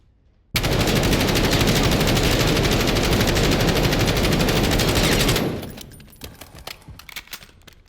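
Automatic gunfire in Call of Duty, one long unbroken burst lasting about five seconds, loud and close, then fading into scattered clicks and mechanical rattles.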